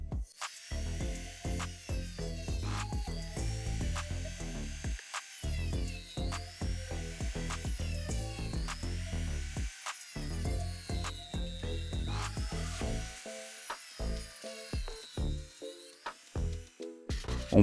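Socket casing being cut for a homemade machine, a steady close buzzing tool sound with rhythmic pulsing and brief stops, loud and continuous for most of the clip.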